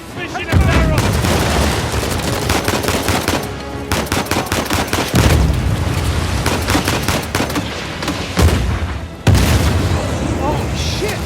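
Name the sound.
grenade launcher explosions in the video game Uncharted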